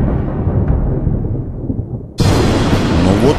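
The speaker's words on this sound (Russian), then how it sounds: "Но вот послышался страшный гром." Terrible thunder rolls in a legend scene, a low dark rumble that fades, then a sudden loud broadband crash that stays sustained and booming, with no voices.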